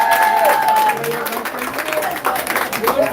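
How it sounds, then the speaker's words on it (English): An audience at a young steelpan soloists competition in Sangre Grande breaks into loud, sustained clapping and some cheering, with an announcer speaking over the crowd. "Give him a nice round of applause."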